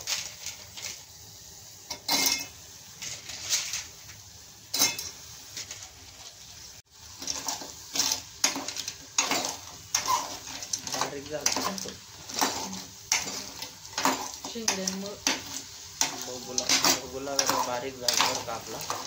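Crabs are tossed into fried onion masala and stirred in a pan outdoors, with scattered metallic scrapes and clinks recurring irregularly, a person speaking over them and birds cooing in the background.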